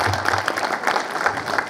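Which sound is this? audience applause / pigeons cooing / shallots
audience applause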